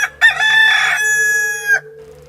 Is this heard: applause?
no